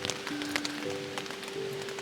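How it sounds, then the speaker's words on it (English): Steady rain patters across a surface on the Colorado Trail, a continuous hiss of drops with scattered sharper taps, fairly close and even throughout. "It's just been raining for the past like 5 days straight"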